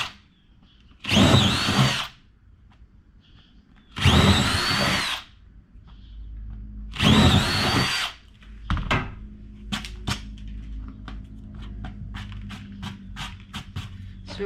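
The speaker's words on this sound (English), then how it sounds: "do our 3/8 drill bit" A power drill with a 3/8 bit bores a hole during a wheel chock install, running in three loud whirring bursts of about a second each, followed by scattered clicks and handling knocks.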